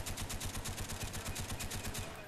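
M60 machine gun in Call of Duty: Black Ops firing a steady, rapid stream of shots, an even rattling burst lasting a couple of seconds at moderate loudness.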